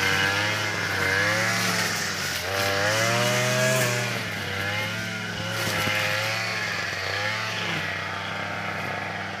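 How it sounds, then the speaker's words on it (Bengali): A grass-cutting machine clears undergrowth in a fruit orchard, its loud, close motor whining steadily and rising and falling in pitch as it works. "মেশিন দিয়ে আমরা কাটতেছি, ঘাস পরিষ্কার করতেছি।"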